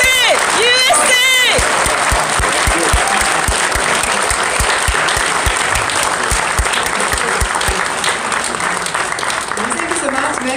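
Loud audience applause at a political lecture, a dense and sustained wall of clapping with cheering, opening with a voice shouting over it and then continuing steadily.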